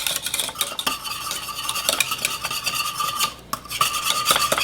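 Seasonings being stirred into a thick queso cheese dip in a pot, with continuous close scraping and stirring strokes and occasional clinks of utensil on the pan, no voices.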